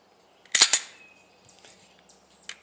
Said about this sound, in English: instead of dropping the slide like that